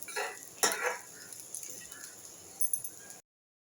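A spoon scrapes and clatters in a pan while sliced coconut and onion roast for a chicken handi masala, with short metallic knocks and soft sizzling over about three seconds, no voices.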